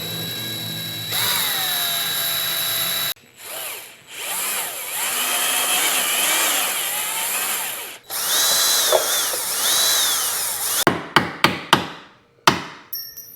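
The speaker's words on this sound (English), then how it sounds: "I used a 1/4-inch drill bit to drill the caps off these rivets." A power drill with a 1/4-inch bit whines in long bursts with pauses between, grinding the caps off metal rivets on a Yamaha SuperJet up close, followed by several sharp metallic taps at the end.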